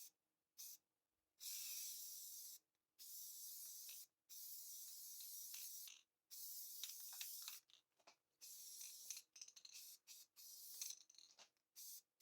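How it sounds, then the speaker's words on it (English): Rattle-can primer sprayed onto a car shift handle in repeated bursts of steady hiss, each lasting one to two seconds and separated by brief silences, close and clear with no talking. "I'm going to use some rattle can primer and spray it, and then rattle can paint it black."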